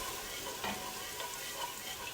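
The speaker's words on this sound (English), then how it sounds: "add our milk and slowly incorporate it with our whisk" Milk is whisked slowly into a pepper mixture for a sauce, a soft steady bubbling hiss with faint scraping strokes, quiet and close, with no voices.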